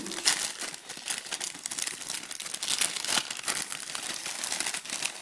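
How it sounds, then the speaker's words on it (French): Plastic packaging for a Wrapsol full-body iPhone 4 protection kit being opened by hand, with steady close crinkling and crackling plus a few sharper tearing bursts, no voices. "je vais quand même l'ouvrir pour vous montrer le contenu du paquet"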